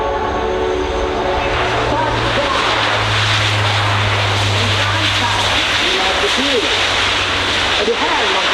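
A C-27J Spartan military transport aircraft roars steadily at an airshow, a loud continuous engine drone heard under an announcer's voice and crowd noise.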